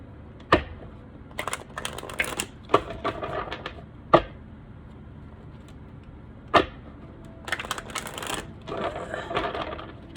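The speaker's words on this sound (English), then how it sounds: "Excuse how I shuffle these cards." An oversized tarot deck is shuffled by hand: scattered bursts of papery riffling broken by sharp card taps, close and dry against a quiet room.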